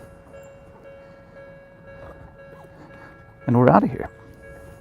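A Tokyo streetcar on the Chin Chin Densha line rolls past nearby, a brief loud rumble of wheels and motor rising over steady motorbike engine and road noise, with someone speaking just before it.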